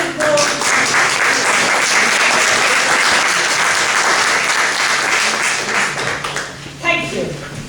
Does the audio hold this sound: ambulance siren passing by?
no